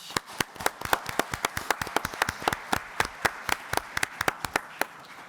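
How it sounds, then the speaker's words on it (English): Scattered clapping from a small group, sharp individual claps at an uneven rhythm, moderately close, with no talking. "I would like to give big applause to the participants"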